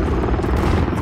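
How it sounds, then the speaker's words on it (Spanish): Support helicopter in the Call of Duty Modern Warfare III video game, a loud, dense rotor roar that fills the whole moment without letup, with heavy battle rumble mixed in. "Llega helicóptero de apoyo."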